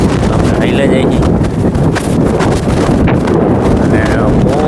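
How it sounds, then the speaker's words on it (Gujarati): Strong wind roars across an open farm field, a loud, steady buffeting on the microphone that lasts the whole time while people talk over it. "અને પવન એ બહુ હોય અત્યારે"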